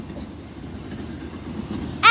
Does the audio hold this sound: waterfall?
no